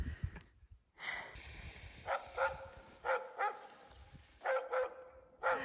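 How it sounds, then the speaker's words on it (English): Sled dogs at a Finnish dog sled tour bark repeatedly in a loose, uneven rhythm. Sharp, fairly close barks and yips come in pairs and clusters over a low outdoor background. "Old dog sled tour."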